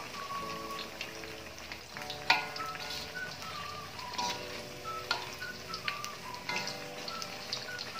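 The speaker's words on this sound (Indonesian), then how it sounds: "Ini sebenarnya aku minyaknya juga kurang, paling bisa ngegoreng 3 pipis." Bakwan vegetable fritters frying in a shallow pan of oil give a soft, steady sizzle with scattered small pops and crackles, fairly faint and with no talk over it.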